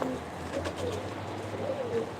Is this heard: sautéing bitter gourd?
no